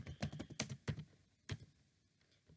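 A computer keyboard clatters with a quick burst of keystrokes, then a few isolated taps, as network commands are entered on a Cisco switch, close and fairly quiet.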